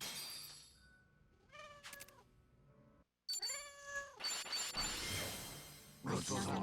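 A cat in the video game Like a Dragon: Infinite Wealth gives a few clear, drawn-out meows, two of them rising and bending. Game sound effects whoosh and clatter around the meows.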